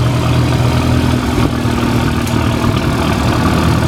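An Oliver 660 four-cylinder tractor at an antique engine and tractor show runs steadily at a loud, close idle, its even mechanical drone unbroken and with no voices over it.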